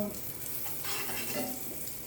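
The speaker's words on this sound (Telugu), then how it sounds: "నెక్స్ట్ ఒక 10 గ్రామ్స్ ఆఫ్ బటర్, చిన్న పీస్ వేసుకోండి సరిపోతుంది" A small pat of butter, about 10 grams, sizzling steadily in a hot pan while French toast is prepared, a continuous crackling fry at moderate volume with no talking.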